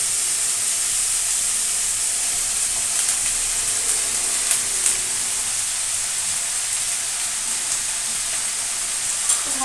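Gourd stems hit a hot pan and sizzle in a steady, bright hiss that holds evenly throughout, with faint stirring clicks beneath and no voices.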